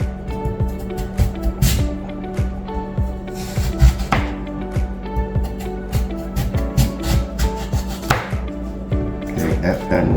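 Knife chopping potatoes into homemade french fries on a cutting board, a steady series of close, sharp knocks in uneven rhythm, with a few louder thuds.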